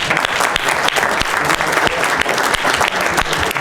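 Loud, dense applause from an audience at a judo interview event, close and continuous, with sharp individual claps standing out in the wash throughout.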